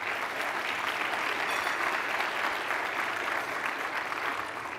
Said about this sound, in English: let us give you an applause